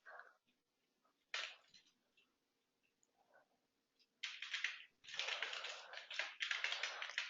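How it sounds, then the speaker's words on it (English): Rapid keyboard typing comes in short bursts separated by pauses, quiet and close, with clustered key clicks growing denser toward the end. "To change the text, I just need to start typing"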